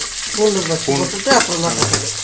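Onions, green chillies and curry leaves frying in oil for a poori potato masala, a steady close sizzle with stirring, while a voice talks over it.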